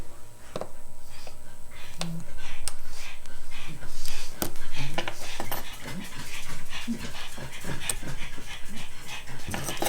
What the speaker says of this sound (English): Sorry for all the dog noise.